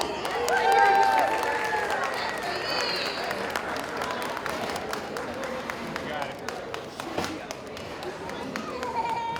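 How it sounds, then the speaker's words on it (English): A wedding crowd applauding the maid of honor steadily, clapping and cheering blended into a dense wash that holds for several seconds, with some voices mixed in. "Everybody clap your hands for Katie."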